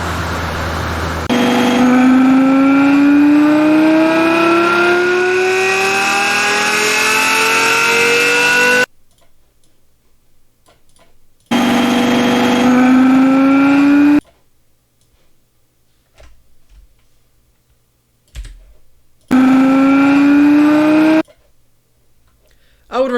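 A car engine in the BeamNG driving game revs up on a dyno in three separate runs, each pitch climbing steadily from low to high before cutting off abruptly into near silence.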